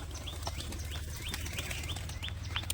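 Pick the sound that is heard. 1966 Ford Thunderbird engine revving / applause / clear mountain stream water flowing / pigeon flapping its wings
pigeon flapping its wings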